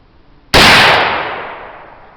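Homemade black powder made with grapevine charcoal, touched off in one sudden loud whoosh that stays intense for about half a second, then fades into a long hissing decay.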